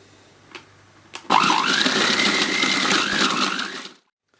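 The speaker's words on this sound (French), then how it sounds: "je les mets directement donc à l'intérieur du robot. Et là, on va pouvoir mixer." A food processor grinding cookies into crumbs starts after two light clicks, running as a loud, steady whirring roar with a shifting pitch for a few seconds before cutting off abruptly.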